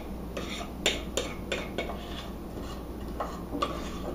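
A utensil scrapes and taps against a mixing bowl to get the last of the scone dough out, a series of faint clinks and scrapes over a quiet kitchen background.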